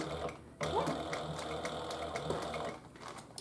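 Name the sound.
sewing machine sewing a Paulette handbag zipper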